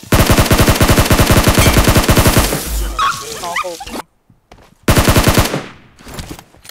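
Rapid bursts of automatic gunfire in the video game PUBG crackle loudly, pause, then resume, with a voice briefly speaking over the shooting.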